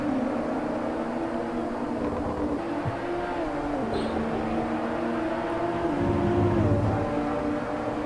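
BMW M235i race cars in a virtual racing cup at the Nürburgring sim race roar steadily, engine drone rising and falling through gear changes as cars run close together, with no talk.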